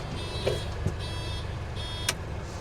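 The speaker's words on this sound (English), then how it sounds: "I've installed a little buzzer to remind me that the indicators are on" A thin electronic indicator reminder buzzer on a Land Rover Series 3 Lightweight sounds in short repeated bursts about once a second over a quiet vehicle hum, with a few faint clicks.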